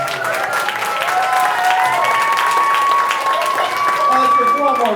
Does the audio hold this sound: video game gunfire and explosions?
no